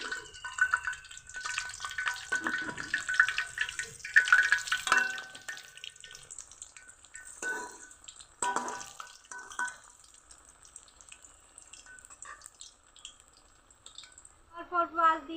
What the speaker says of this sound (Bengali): অল্প অল্প আঁচ দিয়ে বড়াগুলো সময় নিয়ে ভাজতে হবে